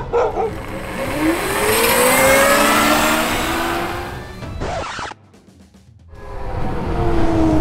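An ETM RTR electric pit bike races a Honda Grom, with a loud, rising motor whine and engine drone that swell steadily, drop away abruptly for about a second near the end, then build again.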